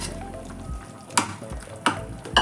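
Sautéed okra is tipped into a curry simmering in a pan and stirred in, bringing a steady sizzle and two sharp scraping knocks of the utensil against the pan.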